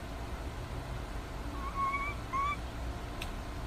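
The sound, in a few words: birds in a cartoon episode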